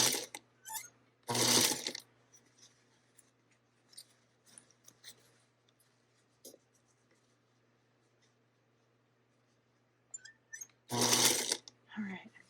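A sewing machine stitches a quilt block seam in two short, loud bursts near the start and the end, with quiet handling clicks and rustles in between.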